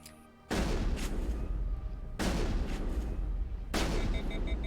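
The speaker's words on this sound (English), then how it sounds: "3 shots and I overheat." Weapon fire from the video game Mass Effect comes in three loud, dense bursts of gunshot noise, each running a second or more, with a quieter gap before the first.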